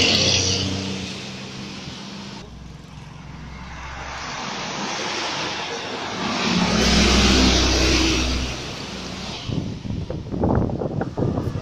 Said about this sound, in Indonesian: Ada bis Gemisa, Tasik Lebak Bulus.